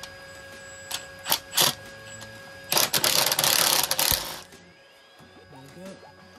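Ratchet or spanner working on a 22mm lambda sensor bolt on a Citroen C1 exhaust, with a few sharp clicks, then a loud rapid ratcheting burst of about a second and a half, fading into quieter mechanical noise.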